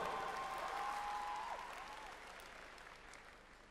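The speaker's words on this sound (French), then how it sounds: "Applaudissez bien fort Zuko et Toph, groupe D5" Crowd applause at a Japan Expo cosplay show, a broad wash of clapping that slowly fades, with a brief whistle-like tone and faint crowd noise over it.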